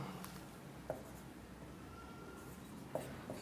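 A pen writes notes on paper, a faint scratchy scribbling close by in a quiet room, with a couple of small taps and no talk.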